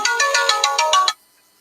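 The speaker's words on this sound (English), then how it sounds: "It's ringing." A phone ringtone trills in several quick, bright pulses, loud and close, then cuts off abruptly into silence.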